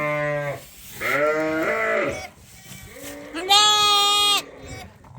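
Sheep on a farm in winter bleat loudly and close, several long wavering calls overlapping one after another, with a quieter gap between them.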